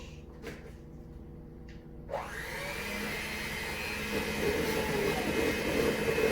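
Chocolate chip cookie dough being mixed in a bowl, with an electric mixer whirring up at about two seconds into a steady loud drone that grows slightly stronger, after a few quieter knocks and scrapes and no talking.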